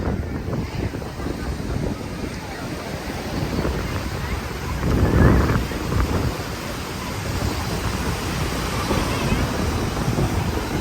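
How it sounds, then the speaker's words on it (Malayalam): Ocean waves rolling onto Kovalam beach at sunset, a continuous roar of surf mixed with heavy wind buffeting the microphone, one wave swelling louder midway. "നിങ്ങൾ നോക്കിയാൽ നല്ല തിരയാണ്, അടിപൊളി തിരയാണ്, നല്ല സൗണ്ടും."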